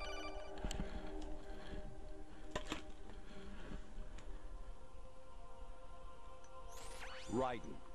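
A phone rings faintly in the Metal Gear Solid 2: Sons of Liberty video game, a thin electronic tone set against a steady background hum with a short chirp near the end.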